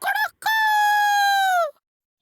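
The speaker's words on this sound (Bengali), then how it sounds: "এই নতুন মোরগটা আবার কি" A cartoon rooster lets out one long, loud cock-a-doodle-doo that holds steady, following a short burst of squawking, then silence.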